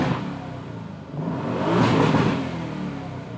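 An Aston Martin DB11 Volante with its V8 engine revs hard with the roof down, a loud, rising growl that swells to a peak and then eases, heard near and on its own.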